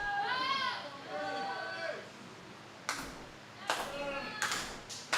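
At a live wrestling event in the Empire Arena, a crowd claps in a few sharp, evenly spaced bursts in the second half. High, voice-like tones fill the opening, and the clapping sounds moderately distant.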